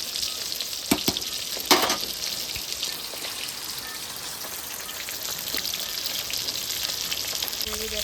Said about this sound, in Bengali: দেখো এই মাছগুলো কিন্তু ভাজা হয়ে গেছে